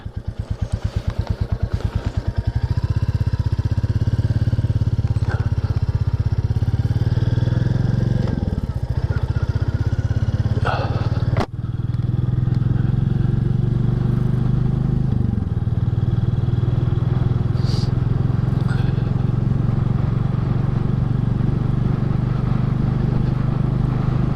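A 2022 Royal Enfield 350 Classic motorcycle cruising cross country, its steady single-cylinder engine drone loud and continuous throughout, with a brief clunk midway and no talking.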